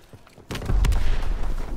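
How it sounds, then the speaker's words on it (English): A grenade detonates in Call of Duty WW2, a sudden deep boom that swells and rumbles for over a second amid scattered crackling impacts, loud and fairly close. "Oh, that was a grenade."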